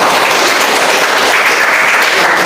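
A classroom of students applauds during a lesson, steady dense clapping filling the whole moment at close range with no talk over it.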